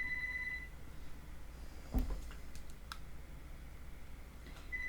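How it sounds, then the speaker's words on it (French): A telephone rings indoors in short, faint electronic bursts at the start and end, over a quiet room tone with a single dull thump in between. "je vais laisser le téléphone sonner"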